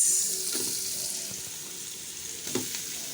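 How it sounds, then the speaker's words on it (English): Minced meat sizzles in a pan as it is stirred for a macaroni meat pie, a soft steady frying hiss with a couple of brief utensil scrapes. "your minced meat, and then you stir."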